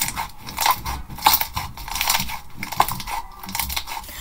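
Butter slime squished and pressed close up, giving soft, irregular crackling and squelching clicks with no talk over them.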